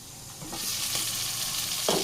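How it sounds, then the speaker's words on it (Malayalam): Mackerel fillets frying in a hot pan give a steady, close sizzle and hiss, with a few brief louder crackles as the fish is turned, and no talking over it. "നമുക്കിത് തിരിച്ച് മറിച്ചൊക്കെ മീൻ ഫ്രൈ ചെയ്ത് കൊടുക്കാം"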